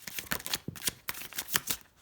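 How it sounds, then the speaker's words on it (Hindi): Tarot cards drawn and handled from a deck during a reading: a quick run of close, soft papery flicks and slides in an irregular rhythm, fairly quiet, with no talking. "चलो पहले कार्ड निकाल लेते हैं।"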